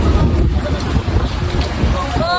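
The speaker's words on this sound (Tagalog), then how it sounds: "Hangin!" Strong wind buffets the microphone in a loud, continuous roar with gusty low rumbles, close and rough, with a faint voice underneath.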